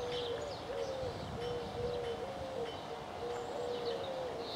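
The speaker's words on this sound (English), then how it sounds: "Plenty of doves are about." Doves coo in a repeated soft rhythmic phrase, several times over a steady hiss of outdoor ambience on a countryside walk between Glynde and Seaford in late June.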